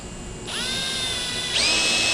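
A power drill driving a bit into a hole in a Can-Am X3 Maverick door during installation, a steady high whine that rises in pitch twice as it speeds up, close and loud with no talk.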